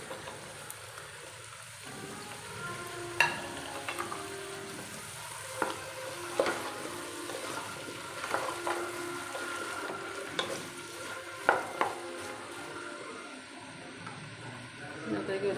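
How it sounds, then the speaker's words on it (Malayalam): Chopped pumpkin, potato, drumstick and cucumber sautéing in ghee, a continuous close sizzle with frequent spatula scrapes and clicks against the pan. "മത്തങ്ങ ഉണ്ട് കിഴങ്ങ് മുരിങ്ങയ്ക്ക വെള്ളരിക്ക ഇതെല്ലാം ഞാൻ അരിഞ്ഞ് വെച്ചിട്ടുണ്ട് ഇതെല്ലാം നമുക്ക് ഈ നെയ്ക്കകത്ത് ഒന്ന് നന്നായിട്ടൊന്ന് വാടി വരണം"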